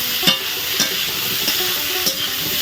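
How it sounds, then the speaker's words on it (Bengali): Chopped bottle gourd and potato frying in a wok, a constant loud sizzle with a few spaced scraping stirs. "এখন লাউটাকে আর আলুটাকে একটু ভালোভাবে ভেজে নেবো।"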